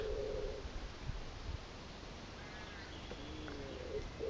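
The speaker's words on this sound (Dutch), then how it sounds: "Een duif die koort, vredig en rustig." A pigeon coos softly near a large beech tree at Avebury, England: faint, low coos at the start and again near the end, against quiet outdoor background noise.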